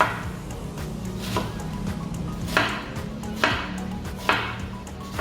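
A knife slicing cabbage thinly for a Malaysian-style cabbage salad, giving a steady crisp cutting texture with a few sharper chops standing out. No one speaks.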